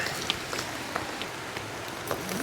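Heavy rain drums steadily on a tent with an open rain fly, a dense unbroken hiss of drops with sharper individual patters standing out, close and continuous with no talking.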